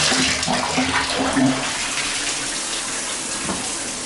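Water gushes steadily from a tap, a strong, even rush filling the space, with a brief faint tone near the start.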